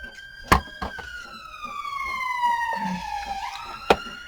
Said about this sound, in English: Excuse the ambulances, but I actually live on a main road and the hospital is like right across the road from me.